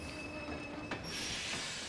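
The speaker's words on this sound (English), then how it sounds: "A train came from the beach." A train arrives in the video game Kingdom Hearts 2, its wheels squealing steadily against the rails with a bright, sustained screech and rumbling carriage noise throughout.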